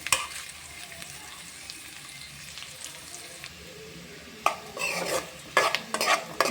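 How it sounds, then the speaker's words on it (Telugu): Grated fresh coconut being stirred in a hot pan while it fries toward light brown for a spicy coconut powder, with a soft steady sizzle and sharper scraping stirs near the end. "కలుపుతూ అప్పుడప్పుడు మధ్య మధ్యలో కలుపుతూ ఫ్రై చేసుకోండి"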